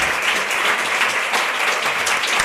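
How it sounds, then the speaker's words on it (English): A large audience applauds a speaker at the close of an academic session, a dense, steady wash of many hands clapping at once that holds at full strength throughout. "please give a warm, big round of applause to Dr. Li"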